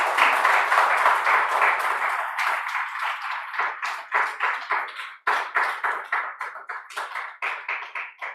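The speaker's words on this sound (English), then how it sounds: "Give a big round of applause for them." An audience at IIT Kharagpur claps for guests taking their seats on the dais, a dense, close burst of applause that thins into slower, uneven claps toward the end.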